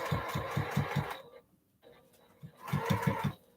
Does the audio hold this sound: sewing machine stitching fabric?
yes